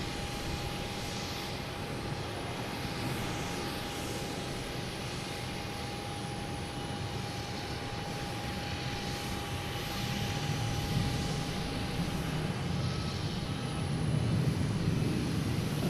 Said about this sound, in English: we have American Airlines taking off. Heading to Chicago.